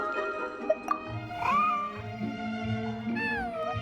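A cat in a video game gives a few clear, drawn-out meows, close and distinct, each rising then falling in pitch with short gaps between, over a quiet low background hum.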